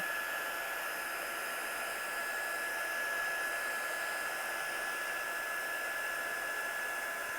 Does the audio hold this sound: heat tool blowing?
yes